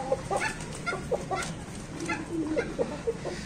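A rooster clucks repeatedly nearby in short, uneven bursts over a low background hum.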